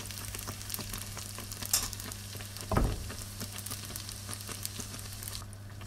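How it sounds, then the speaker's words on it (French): Moroccan beignet dough frying in oil in a pan, giving a close, even sizzle with a steady low hum beneath and a couple of brief louder pops or scrapes. "Le pain ou beignet cuit à la poêle."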